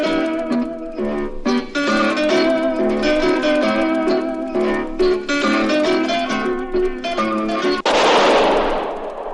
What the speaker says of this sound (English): That was the shot that killed Harry Lime.